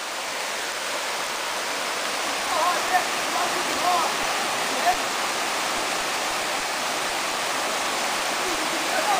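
Water rushes down a waterfall in a broad, steady roar that stays loud and constant throughout, with only a few faint splashes rising briefly above it.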